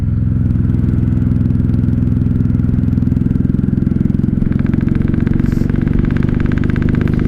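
A 1995 Honda Shadow VLX 600 (VT600CD) motorcycle engine while riding, a loud, steady close-up drone that settles into a smoother, quieter rhythmic throb partway through, with wind and road rattle underneath.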